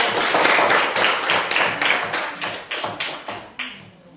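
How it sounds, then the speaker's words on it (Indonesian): A small group in a classroom-style session claps together, the applause starting full and then thinning into scattered, separate claps that fade out near the end. "kita beri tepuk tangan untuk"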